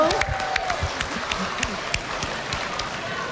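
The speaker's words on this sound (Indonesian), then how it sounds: "Boleh tepuk tangan dulu? Tepuk tangan dulu? Tepuk tangan dulu." An audience applauds at a televised presidential debate show, with a dense patter of clapping hands throughout and a voice briefly speaking over it at the start.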